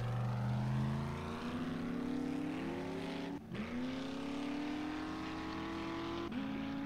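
A vehicle driven in the video game 7 Days to Die, Darkness Falls mod, its engine whine rising steadily in pitch as it speeds up, briefly cutting out once, then climbing again, loud and alone.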